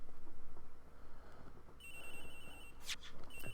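A phone rings in Ace Attorney Investigations, the victim's phone ringing somewhere during a smuggler investigation: a bright electronic ringtone starts partway through and repeats in short trilling bursts over background game music.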